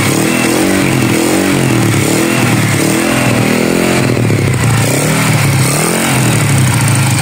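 XRM 110 motorcycle engine fitted with a 53mm cylinder block, still cold, running loud and close with a steady rough idle and a few slight swells in revs, no talking.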